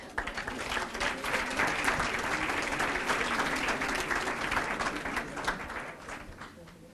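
A nonprofit grants event audience claps and cheers together, dense applause swelling quickly and holding strong before tapering off at the end.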